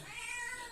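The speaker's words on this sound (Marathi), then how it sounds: "मांजरसुद्धा ओरडत आहेत" A cat meows near a fish catch on the Konkan coast, one drawn-out, fairly faint cry heard on its own.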